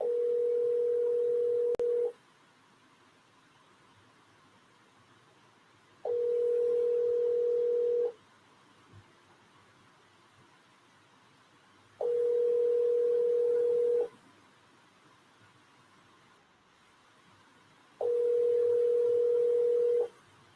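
A telephone ringback tone sounds while a call is being placed: four steady, moderately loud tone bursts, each about two seconds long, separated by roughly four seconds of quiet, with no voices.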